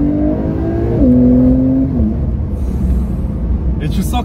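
A loud twin-turbo Porsche 992 Carrera 4S engine drones steadily, its pitch stepping up and settling as it revs, with a rushing whoosh at the end.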